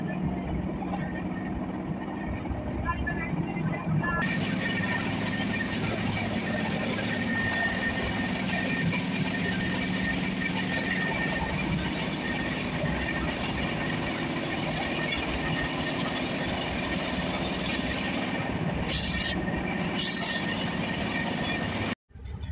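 A train station hums with constant rumble and clatter as a train rolls past close by. There are brief squeals near the end and the sound cuts off abruptly, with no clear talking.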